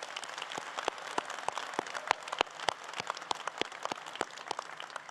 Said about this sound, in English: Let's give the class a round of applause.